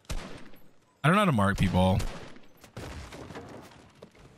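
Bursts of gunfire in the video game Fortnite crack out in quick volleys, mixed with a loud tonal in-game effect and a player talking over the shots.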